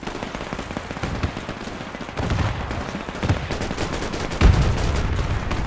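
Gunfire in the Men of War II strategy game, rapid dense bursts of machine-gun and rifle shots crackling continuously with occasional heavier booms, loud and busy throughout.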